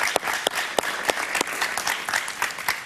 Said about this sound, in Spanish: Un aplauso para Eduardo, por favor